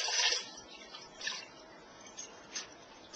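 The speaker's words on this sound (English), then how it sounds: "What I want to do is just take this barley and dump it into the water, which is already being heated with the beef" Rinsed barley is tipped into a pot of heating water with beef: a burst of soft splashing at the start, then lighter wet splashes and drips at intervals, close and fairly quiet.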